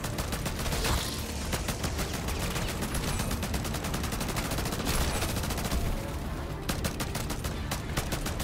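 Rapid gunfire from a Sidewinder gun in Call of Duty zombies mode, loud sustained automatic bursts close up with brief gaps, dense and continuous through the stretch.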